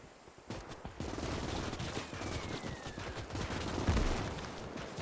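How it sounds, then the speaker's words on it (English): A machine gun fires from a tower in the Call to Arms - Gates of Hell: Ostfront video game, sustained rapid bursts rattling loudly in a dense battle din with a distant whine overhead. "That MG in the tower can definitely shoot."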